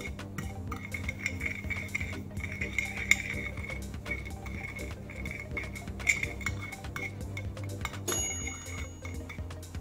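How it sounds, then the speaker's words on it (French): A spoon stirs a blue-tinted Halloween cocktail in a glass, giving steady light clinks and scraping against the glass that repeat over a low background hum, with a louder clatter near the end. "A l'aide d'une cuillère, on va mélanger."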